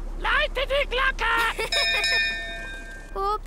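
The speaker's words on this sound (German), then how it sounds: "Peppa, läute die Glocke!" A ship's bell rung repeatedly in a cartoon, clear metallic dings with long ringing tones after cartoon voices speak, then a final voice.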